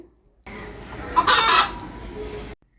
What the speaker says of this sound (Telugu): రోజా డిఫరెంట్ డిఫరెంట్ కూతలు వినండి